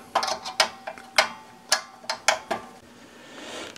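Screws being backed out of an Antminer S9 case give a series of crisp metallic clicks and ratcheting ticks, close and irregular, without talk.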